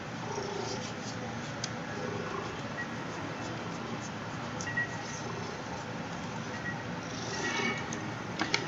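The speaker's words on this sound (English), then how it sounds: "I hope his purring is coming through on the mic." A soft, continuous cat purr rumbles close to the mic, steady throughout with faint background noise and a few small clicks.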